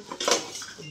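Metal kitchen utensils, a karahi, ladles and spatulas, clink and clatter together in one brief close burst of ringing metallic contact.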